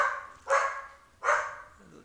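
A dog gives two sharp barks about three quarters of a second apart, close and fairly loud, in an otherwise quiet room.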